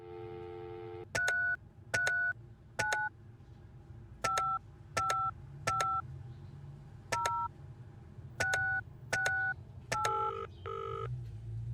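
A telephone keypad being dialed: a string of about eleven short, clear touch-tone beeps in uneven groups, with a low hum of room noise underneath.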